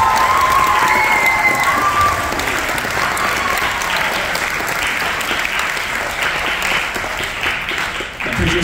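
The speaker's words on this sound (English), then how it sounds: "Give yourself a round of applause." At a COHS Jazz Band concert, the crowd gives loud, dense applause with scattered cheers and shouts. It is strongest at the start and eases off slightly toward the end.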